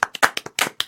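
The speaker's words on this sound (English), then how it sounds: "So you do need to clap for me." A small audience claps on cue at a live storytelling show, giving about six sharp, separate claps spread unevenly across less than a second, each one near and distinct with no talking.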